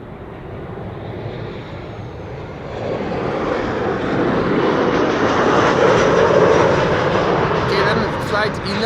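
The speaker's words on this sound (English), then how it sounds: "Flight 1176 is now a landing, arrival from Stavanger. That's a 737-700." A Boeing 737-700 airliner landing at an airport, a loud broad engine roar that swells and holds steady as it nears, with a faint voice in the background.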